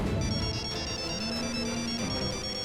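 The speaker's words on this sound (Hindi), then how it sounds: "हमारा भी फोन आ गया, बताइए ना।" A mobile phone that had water spilled on it plays its ringtone, a steady looping melody heard loud and close for the whole stretch, with no talking over it.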